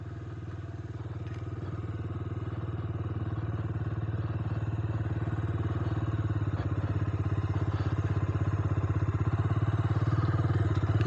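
A motorcycle being wheeled out from behind a house and started, its engine running with a steady low chugging rumble that grows gradually louder and closer over the clip, with faint clatter and no talk.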